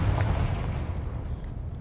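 A Confringo blasting spell explodes in a video game, a dense low rumbling boom that fills the whole moment and slowly tails off.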